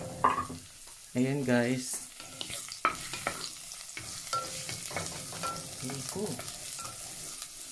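Garlic frying in a clay pot (palayok) while being stirred, a soft sizzle with scraping stir strokes under a speaking voice.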